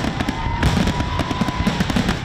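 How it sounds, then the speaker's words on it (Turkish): Fireworks crackle and pop in dense, rapid bursts over New York at a celebration marking the end of pandemic restrictions, loud and continuous with no talk. "Havai fişekler virüse veda için atıldı"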